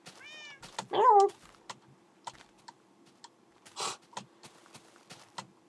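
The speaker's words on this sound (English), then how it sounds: "Yes, so we finally have an ocelot." An ocelot in the Minecraft video game gives a couple of short, high meows, heard alone and fairly quiet, followed by scattered keyboard clicks and one soft whoosh.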